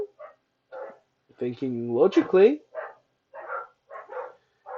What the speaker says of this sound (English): Sorry for any barking in the background as well